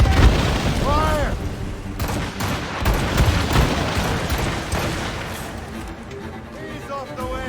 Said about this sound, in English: Firing a volley!